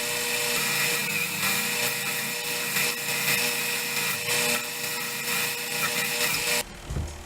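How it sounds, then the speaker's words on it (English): Small disc sander working the wooden seat of a Windsor chair: a continuous, loud, high-pitched whirring grind with slight surges as the wood is pressed in, cutting off abruptly near the end. "how woefully inadequate my disc sander is"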